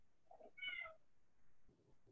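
A pet cat meows once or twice close by in a quiet home kitchen, a short clear call standing alone against faint room noise with no talk over it.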